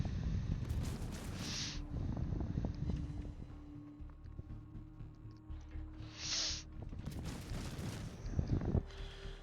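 Naval cannon fire from the German cruiser Konigsberg in World of Warships, with heavy booming salvos near the start, middle and end over a steady rumble of engine and sea noise.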